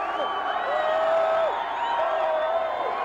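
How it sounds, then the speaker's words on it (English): A large crowd of baseball fans celebrates at a South Philly block party, a dense, steady roar of cheering with whoops and shouts rising over it, close and loud throughout. "A massive block party underway, and take a look at this crowd."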